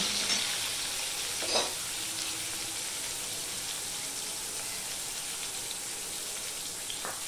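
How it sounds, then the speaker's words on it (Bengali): Potato pieces, cut to the size of fish pieces and salted, fry in hot oil with a continuous, even sizzle and crackle, close and steady throughout with no talk. "এখানে আমি আলু কেটে নিয়েছি, দেখতেই পাচ্ছ। যেমন মাছের পিস এই অনুপাতে আলু কেটে রেখেছি। এবার এটা আমি ভেজে নেব।"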